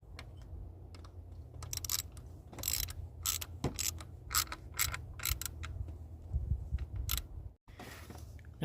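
Ratchet tightening a bolt while replacing the PCV valve and oil separator on a first-generation Audi Q5 2.0T, heard as bursts of quick mechanical clicks over a steady low hum, pausing briefly near the end.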